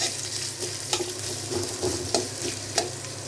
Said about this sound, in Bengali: পেঁয়াজটা ভাজা ভাজা হতে থাক